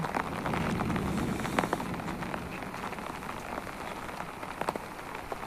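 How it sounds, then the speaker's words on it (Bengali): Evening rain falls steadily on surfaces in Dhaka, a dense, even patter with scattered louder drops close by, continuous with no speech. "ঢাকার আকাশে বৃষ্টি হচ্ছে বৃষ্টিটা দেখে খুব ভালো লাগলো"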